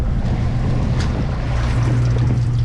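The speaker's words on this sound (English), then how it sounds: "let's turn on the fish box. You can hear that live well" Live well pump in the fish box of a 2026 Hewescraft 240 Ocean Pro with an F300 outboard, running as a steady low hum with broadband water and wind noise throughout, fairly loud and continuous, no talk.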